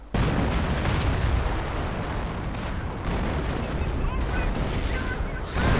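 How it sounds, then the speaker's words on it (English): Light and heavy artillery and howitzer fire pound a flak crew's position in a 1v1 strategy video game, a dense, continuous rumble of overlapping blasts and bursts with a sharp loud crack near the end. "Flak crew getting hammered with artillery, light and heavy."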